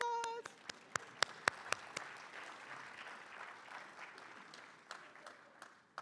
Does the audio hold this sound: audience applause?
yes